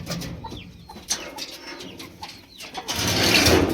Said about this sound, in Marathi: जे दिसत आहे तुम्हाला असेलचा कोंबडा आहे साडेतीन किलो